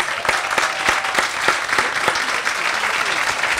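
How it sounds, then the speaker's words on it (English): Applause from the crowd at a grand opening ribbon cutting, a steady wash of many hands with a few sharp nearby claps standing out, fairly loud and close. "Clap it up for yourselves, ladies and gentlemen."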